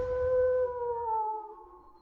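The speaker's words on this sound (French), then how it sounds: "Le loup arrive." A single long canine howl from a wolf or husky rises and slowly fades, clear and fairly close, with no talking.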